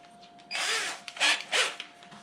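A power drill countersinks screw holes in wood in a guitar-making workshop, with three short whirring bursts, the last two sharper and louder, against a quiet background.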